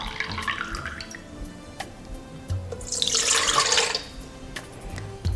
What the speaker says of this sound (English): We'll add 150 mils of warm water.